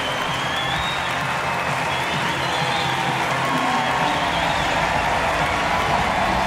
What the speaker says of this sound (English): he laps up the applause of his adoring public